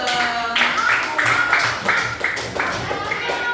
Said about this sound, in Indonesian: tepuk tangan buat kelompok A